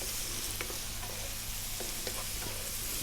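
Prawns frying in a pan with oregano and chili powder over slightly above medium heat, a steady dense sizzle with a few soft stirring taps, close and continuous without voices.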